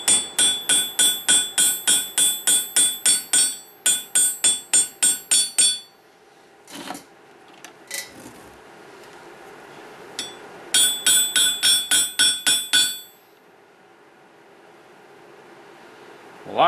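Repeated hammer blows peening metal over the edge of a small anvil set above a bench leg for a magnet lifter: rapid bursts of sharp, ringing metallic strikes in two runs, separated by a pause with a few scattered knocks, then quiet.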